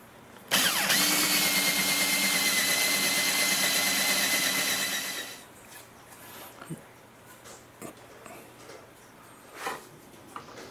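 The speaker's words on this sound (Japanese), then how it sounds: "ないのでドリルとジグソーで地道に穴を開けることになります" A power drill bores holes in a homemade carburetor box for a two-stroke supercharger project, a loud steady whine running for about five seconds before cutting off, then quiet handling clatter and small knocks.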